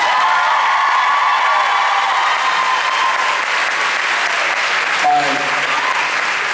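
Convention crowd at a Supernatural fan panel in New Jersey claps loudly and continuously, a dense roar of applause with some cheering mixed in, and a brief voice or tone cuts through near the end.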